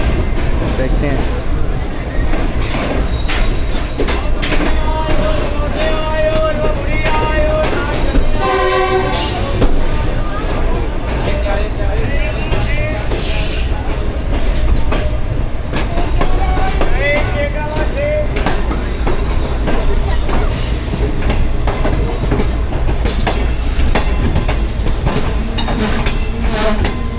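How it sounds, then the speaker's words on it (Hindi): The Pak Business Express train pulls into Multan station, its wheels clattering and squealing over the rails. A loud horn sounds over a constant rumble, with voices talking nearby. "जी मुल्तान पहुंच गई ट्रेन।"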